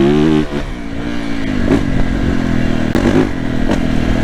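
A Yamaha YZF 450 dirt bike accelerates hard through fifth gear with its rear wheel spinning, a loud close engine rising in pitch and then surging again after a brief drop in revs.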